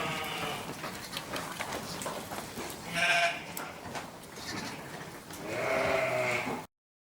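Lambs bleat in a farm lambing setting, several distinct cries rising over a soft background of shuffling and rustle, the loudest calls near the middle and end.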